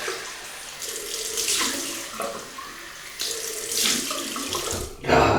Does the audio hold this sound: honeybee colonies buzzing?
no